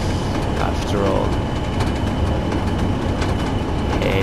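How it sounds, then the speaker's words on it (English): A long, heavy oil freight train in Train Sim World, a constant loud rumbling roll with rattling wagons and occasional clanks, someone talking over it. "It's long and heavy train."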